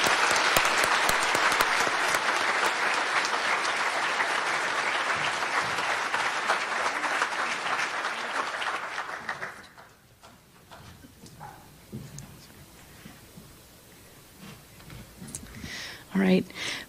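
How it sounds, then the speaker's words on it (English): An alumni awards dinner audience applauds loudly and densely for about nine seconds, then the clapping drops off abruptly into quiet room tone with scattered faint voices and small clatters. "let's give these proud folks a round of applause"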